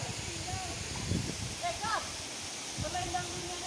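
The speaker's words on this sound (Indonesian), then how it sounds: "Ah, ini view dari bawah air terjun." Steady broadband rush of the Sarasah Panawan waterfall heard from below, a constant hiss of falling water with brief voices and scattered handling noises on top.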